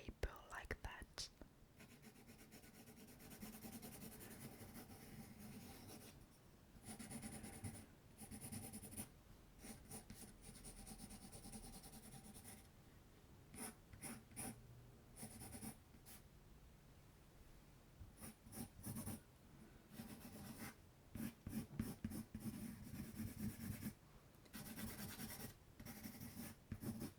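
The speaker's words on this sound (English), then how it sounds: "it's very relaxing to make some pencil noise on paper like that." Pencil strokes rasping on paper during a drawing session, soft repeated scratching and rubbing in short bursts, close and quiet, with a soft-spoken whispering voice in a French accent at times.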